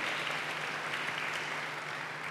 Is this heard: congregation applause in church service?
yes